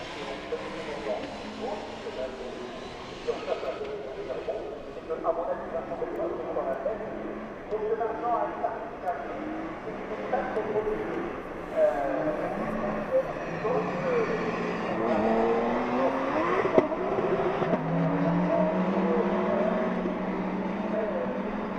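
Porsche Carrera Cup France and GT3 Cup Challenge Benelux race cars lap at Le Mans in 2016, their engines rising and falling in pitch beneath continuous race commentary.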